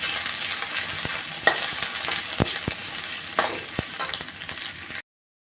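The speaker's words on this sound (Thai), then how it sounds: "เอ๋จะผัดพริกแกงให้หอมก่อนนะคะ" Thai curry paste stir-fried in a little oil for a chicken and bean dish: a close, continuous sizzle broken by sharp, irregular spatula knocks against the pan, then silence at the end.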